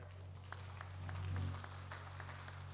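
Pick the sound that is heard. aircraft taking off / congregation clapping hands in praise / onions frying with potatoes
congregation clapping hands in praise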